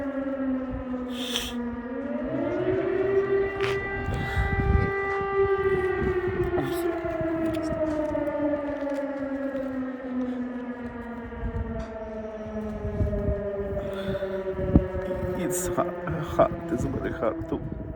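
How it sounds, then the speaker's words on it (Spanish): A long, wailing civil defense air raid siren in wartime Ukraine rises and slowly falls, sustained throughout, with a voice speaking faintly underneath and a few scattered knocks. "Escuchas la sirena."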